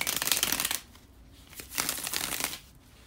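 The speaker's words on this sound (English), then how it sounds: "just give me a couple of seconds to shuffle the cards." Tarot cards being shuffled by hand in two quick bursts of papery riffling separated by a short pause, close and fairly quiet with no talking.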